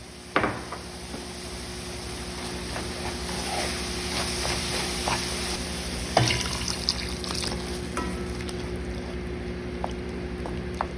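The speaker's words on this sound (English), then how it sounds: "Now we're going to add the water." Water poured into a pan of Bangladeshi-style tomato, potato and egg curry, a steady trickling splash with a sharp clatter near the start and another knock midway, no voices.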